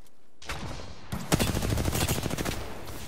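Rapid gunfire from a video game breaks out after a couple of short lead-in shots, then runs as a steady, loud automatic stream of close shots to the end.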